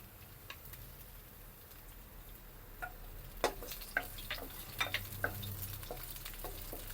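Garlic and onion sautéing in hot cooking oil while making adobo, a quiet steady sizzle with scattered light ticks and stirring taps, no talking.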